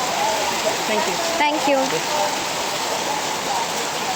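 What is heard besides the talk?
heavy rain falling at a temple entrance in Bali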